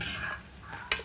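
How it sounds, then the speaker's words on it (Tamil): A spoon scrapes and stirs a rice dish in a cooking pot, soft brief scraping ending in a sharp metallic clink, close by with no talking. "நல்லா கிண்டி விடுமா."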